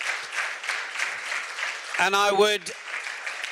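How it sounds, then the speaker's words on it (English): Audience applauding speakers at a live recruiting event, steady clapping across the whole stretch with a voice briefly speaking over it partway through. "Please give them a big round of applause as a collective."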